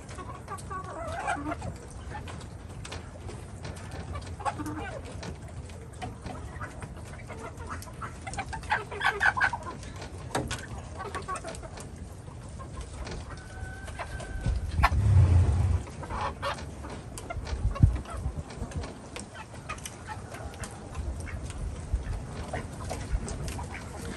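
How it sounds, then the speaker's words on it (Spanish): Roosters and hens cluck and crow steadily on a small ranch at Christmastime, with several birds calling near and far over a constant outdoor background and a louder burst of activity midway. "Hasta los kikirikis andan ahí."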